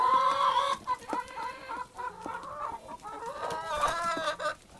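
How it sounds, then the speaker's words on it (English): Chickens cluck and squabble, with close, loud overlapping clucks and a drawn-out crow-like call, broken by short gaps, with no voices. "So they're just going to fight it off here. These chickens"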